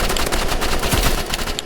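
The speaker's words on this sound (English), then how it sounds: "And then I also like to use the shotgun. So it shoots pretty good" Rapid gunfire from a shotgun in the video game Rivals, dense and loud, filling the whole moment with continuous bursts and no talking.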